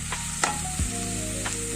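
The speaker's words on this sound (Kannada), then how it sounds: "ಈರುಳ್ಳಿ ಹಸಿಮೆಣಸು ಹಾಕಿದ್ದೀನಿ ನಾನು." Sliced onion and green chilli fry in a pan over a low gas flame, giving a continuous close sizzle with a few brief stirring scrapes.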